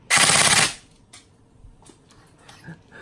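An upgraded airsoft M4A1 E&C rifle fires a short, loud burst of rapid shots in a home garden, then only faint, scattered background sounds follow.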